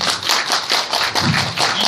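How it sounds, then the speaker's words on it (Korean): An audience at an agricultural policy discussion applauds a speaker, producing a brief, dense wash of many hands clapping at once, loud and close with no talk. "수고하신 장지학 선생님한테 박수 한번"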